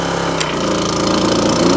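A Honda HR214 lawn mower engine runs steadily after a cold start, loud and close, with a regular chugging pulse that firms up as it evens out.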